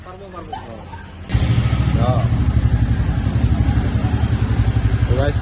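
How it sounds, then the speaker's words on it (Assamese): A brand-new motorcycle's engine starts at a dealership and idles steadily with a rhythmic low throb, close and loud, while a person talks briefly over it. "ফাইনেলি ডিলাৰৰ পৰা ওলাই গ'ল বাইক"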